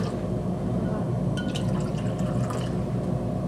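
Alkaline ionized tap water pours into drinks, a steady liquid filling sound with a few splashy spatters, close and continuous over a low background hum.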